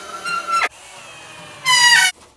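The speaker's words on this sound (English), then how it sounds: "So I'm going to go ahead and add my screws." Two bursts of high, whining motor noise from a power driver driving screws into a wooden wall shelf, one short at the start and a longer one later, with a quieter pause between.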